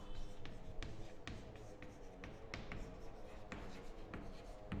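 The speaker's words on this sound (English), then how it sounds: "Yes, just I'll write the formula." Formula being written on a board in an accountancy class: a series of close, crisp taps and scratchy strokes in an irregular rhythm, heard alone without talk.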